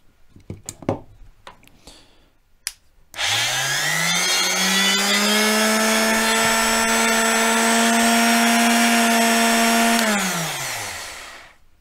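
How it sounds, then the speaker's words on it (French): A 200-watt electric sander powered from a LiFePO4 solar battery spins up after a few knocks and clicks, holding a loud, steady motor whine with a strong hum for about seven seconds before winding down. "Maintenant, je teste avec une ponceuse qui fait"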